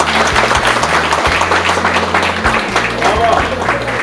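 Wedding guests at a Christian holy marriage ceremony applaud the newly married couple, a continuous wash of clapping over background music and talking voices.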